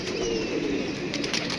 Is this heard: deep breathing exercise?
no